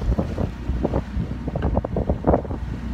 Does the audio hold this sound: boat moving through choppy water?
yes